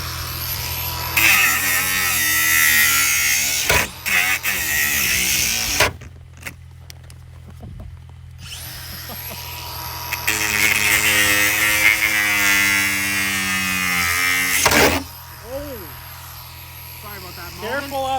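Handheld power tool, likely an angle grinder, cutting off a car's windshield wipers: two long bursts of loud whining, shrieking cutting, separated by a short pause with clanks, then a few brief harsh bursts near the end.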